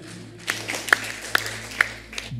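A church congregation claps in a few loud, spaced-out bursts that fall into a rough rhythm, lasting only a couple of seconds.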